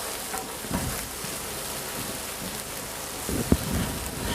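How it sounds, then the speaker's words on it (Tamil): Ingredients for a chicken bhuna masala sauté with a little salt in a pan, giving a steady, rain-like sizzle with a few soft stirring knocks. "போட்டுட்டு இதை ஒரு நல்லா கலர் மாறுற வரைக்கும் வதக்கிக்குங்க"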